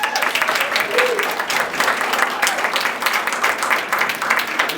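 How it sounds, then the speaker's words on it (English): Applause from an audience at a fringe festival magic show after a trick restoring an object to one piece, brisk clapping throughout with a voice briefly heard among it. "we show everybody that it's come back to 1 piece to thunderous applause."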